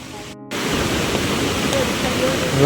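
Floodwater from a rain-swollen Konkan village river pours over a bridge in a constant, dense roar, close and loud. A momentary dropout comes near the start, then the rush carries on unbroken.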